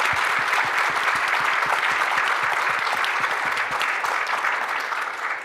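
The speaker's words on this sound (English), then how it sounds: "Round of applause." Audience at a campus research panel event applauds the panelists, a dense, steady wash of many hands clapping that holds evenly at full strength throughout with no talking over it.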